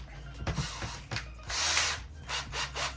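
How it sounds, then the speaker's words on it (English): A cordless power drill with a long bit whirs in short bursts as it bites into wood, with grinding, rubbing noises between the runs, close by. "I'm actually going to drill it straight into this"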